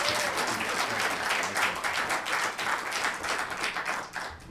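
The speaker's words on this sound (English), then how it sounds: "How about another round of applause for you?" An audience at a Schuylkill County Patriots event gives a round of applause, a dense stretch of clapping that swells and dips slightly before trailing off, moderately soft overall.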